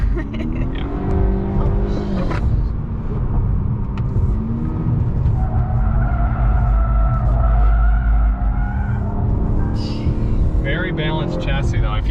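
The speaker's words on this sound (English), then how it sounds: "I'm obviously kind of squealing the tires a little bit more for effect" 2021 Honda Accord 2.0T Sport with its tires squealing through corners, sustained tonal screeches rising and holding over a loud engine drone and road noise, with talk inside the cabin.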